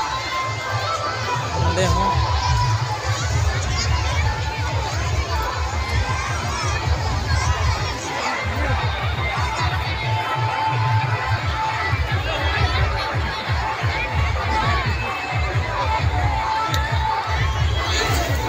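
A dense village fair crowd roars continuously and loudly nearby, full of shouting children, cheering and many overlapping voices for the whole stretch, with a rumbling low background throughout.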